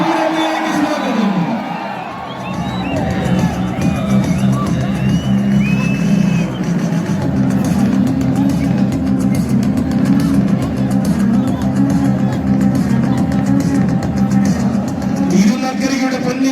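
A crowd at the Thirunakkara Pooram temple festival, where elephants are paraded, roars and cheers in a broad, sustained din while an announcer talks over a loudspeaker throughout.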